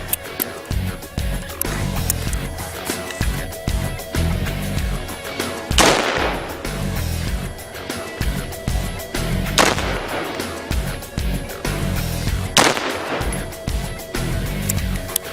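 Rifle fired on full automatic at a shooting range, loud rapid bursts of gunfire with a few especially sharp reports across the stretch.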